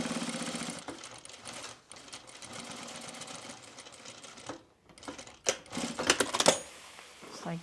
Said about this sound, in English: All right, so we're just gonna stitch this down.